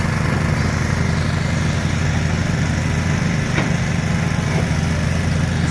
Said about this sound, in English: Right down to bedrock, we're scraping it.